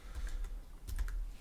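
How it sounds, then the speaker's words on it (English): Fingers tap quickly across a computer keyboard in bursts of close, crisp clicks, with no voices over them. "the easier way is just to hit F on the keyboard"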